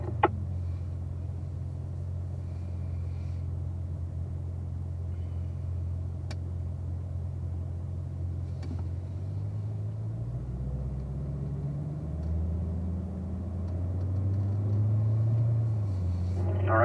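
A Corvette at an owners' driving school idles low and steady, then pulls away and picks up speed into a braking exercise, the engine rumble rising and shifting near the end.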